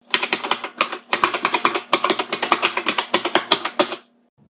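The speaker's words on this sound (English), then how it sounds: "IBM would gain the patent for the buckling spring switches, which were inside the Model M and F keyboards that became the industry standard thanks to IBM" Rapid typing on a mechanical keyboard with IBM-style buckling spring switches like the Model M, producing a dense run of loud, sharp clicky keystrokes close up, ending in silence.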